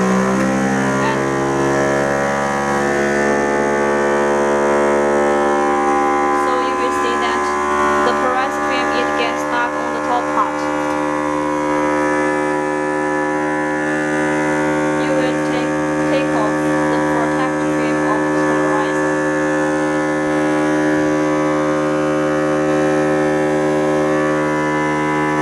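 Vacuum pump built into a 3-in-1 automatic OCA polarizer film laminating machine, running as a steady electrical hum with a stack of even harmonics throughout, continuous and fairly loud.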